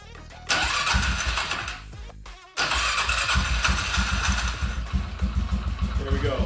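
An ATV engine is cranked over, catches and starts, then runs with a rough, throbbing idle close by.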